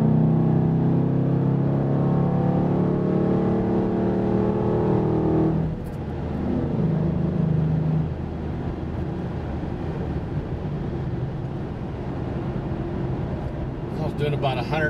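A car accelerating hard in fifth gear from about 75 to 105 mph, its engine a loud sustained drone that shifts in tone partway through, with someone talking over it throughout.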